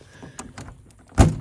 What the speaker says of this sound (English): driver's side door gonna open.